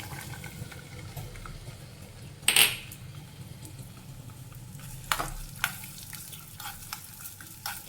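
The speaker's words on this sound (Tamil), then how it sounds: "தேங்காயை இந்த மாதிரி குட்டி குட்டியாக கட் பண்ணி வச்சுருக்கேங்க இது இந்த நெய் கூட சேர்த்துப்போம்" Small pieces of coconut fry in ghee in a pan, giving a steady low sizzle with a few sharp clinks of a utensil against the pan. The clinks come near the middle and toward the end.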